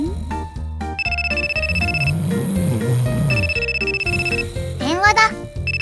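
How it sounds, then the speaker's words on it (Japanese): Electronic telephone ringtone chirping in repeated tonal bursts inside a cramped Japanese animation studio, loud and close, with background music and cartoon sound effects playing alongside it. "電話だ。"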